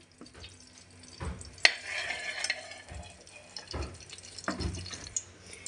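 Ghee sizzles softly as it melts in a wok, a quiet frying hiss broken by a few clanks and scrapes of a utensil against the pan.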